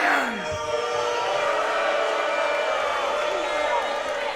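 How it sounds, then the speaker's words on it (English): Wrestling crowd at a live Wrestle'Splosion pro wrestling event, steady roar of cheering and shouting voices sustained throughout, dense and loud with no break. "This crowd voicing who they are supporting."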